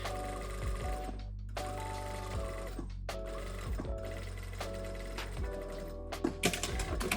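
A sewing machine stitching a corset bodice's center front seam runs with an empty bobbin, its needle mechanism whirring in several bursts separated by short pauses, over quiet background music, close and moderately soft.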